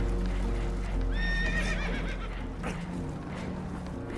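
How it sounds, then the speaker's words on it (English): Spooked horses whinny in Red Dead Redemption 2 aboard a damaged boat taking on water, a shrill neigh rising clearly around the middle over a steady low rumble of water and hooves clattering. "Horses are spooked, and we're taking on water."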